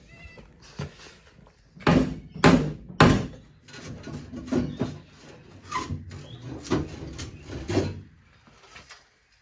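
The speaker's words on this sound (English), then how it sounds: "let's see if we can bang this old shitty muffler off" Hard metallic bangs strike an old muffler on a car exhaust, several loud close hits in an irregular rhythm, with some quieter knocks in between.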